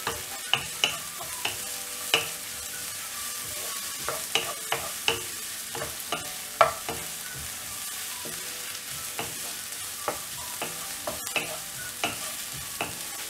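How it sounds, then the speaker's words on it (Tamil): Crushed garlic fries in oil for a spinach kadayal, a continuous hiss and sizzle punctuated by regular scraping strokes and clinks of a spoon stirring the pan, close and steady with no voices. "பூண்டு நல்லா ஃப்ரை ஆன உடனே தக்காளி ஆட் பண்ணிடலாம்."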